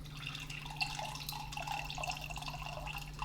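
Water poured into a glass for a drink, a steady close trickle and splash running throughout over a low electrical hum.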